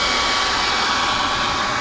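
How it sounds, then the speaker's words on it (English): Hair dryer blowing hot air steadily up close onto a carbon fibre interior trim piece in an EP3 Civic Type R, a continuous loud broadband whoosh with no talk. "Ed put the the hairdryer too close to it, and it blew up the bit of carbon fibre"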